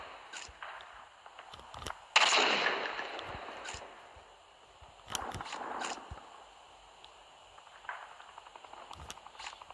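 Gunfire in the mobile shooter game Call of Duty Mobile, with a few sharp shots and one louder burst amid sparse game effects, all close and at moderate volume with no talk.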